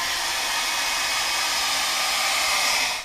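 A hair dryer blows steadily and loudly on fresh stencil spray paint, an even, continuous rush of air that cuts off sharply at the end.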